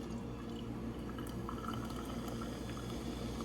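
Lime-flavored Truly hard seltzer pours over cucumber slices in a cucumber smash cocktail, a soft continuous fizzing splash and bubbling, fairly quiet and close, with no talking.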